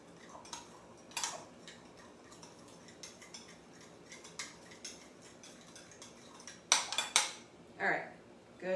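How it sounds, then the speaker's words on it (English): A spoon stirs a dressing of tamari, olive oil, vinegar, maple syrup, pepper and garlic powder in a bowl, giving scattered light clinks and scrapes up close, with a few sharper taps near the end. "Now I'm gonna just mix this together. Just a nice stir."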